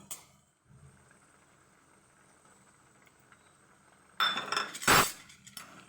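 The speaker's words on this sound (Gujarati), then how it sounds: "તરત જ હલાવી નાખવાનું, નકર ગાંઠી પડી જશે" Gram flour is stirred into cooked fenugreek in a metal pot, a quiet stretch followed by loud scraping and clattering of a spoon against the pot near the end, close by with no speech.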